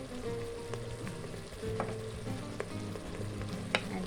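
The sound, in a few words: stirring mixed herbs into frying beef stew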